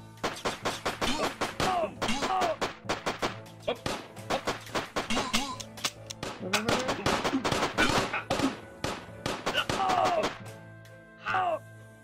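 Gunfire in the Xbox One game Wells, rapid bursts of sharp shots in quick irregular volleys, loud and close, continuing for several seconds.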